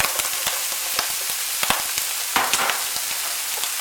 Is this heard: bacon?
yes